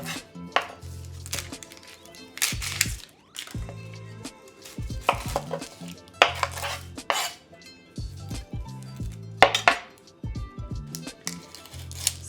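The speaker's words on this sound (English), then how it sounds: "we're gonna start off by chopping our vegetables. I'm gonna start with the onion" A knife chops an onion steadily on a cutting board, in bursts of quick rhythmic strokes separated by short pauses, close and crisp with no talking.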